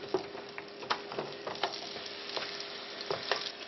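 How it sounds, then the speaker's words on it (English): Garlic and onions fry in a pan while a pizza is being made, giving a close, steady sizzle dotted with small irregular pops and crackles. "Put in the garlic. And the onions."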